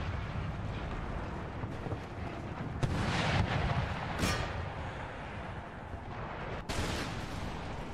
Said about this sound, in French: Mes canons sont extrêmement mal positionnés.